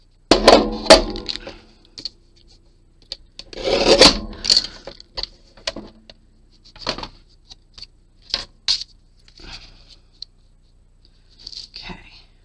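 A card base for a die-cut Christmas card is trimmed along the bottom edge, giving short rasping, scraping cutting strokes in uneven bursts, close and fairly quiet, with soft voices in between.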